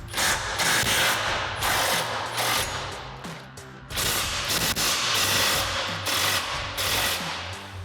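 An impact wrench with a 21 mm socket loosens control arm bolts on a Jeep Wrangler JL, loud rattling hammering bursts in two long runs with a brief dip between, close by.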